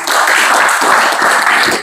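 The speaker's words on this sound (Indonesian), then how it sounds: "Kasih tepuk tangan adik-adik." Young students at an Islamic boarding school applaud together, a brief burst of loud, dense clapping that stays steady from start to finish with no talk over it.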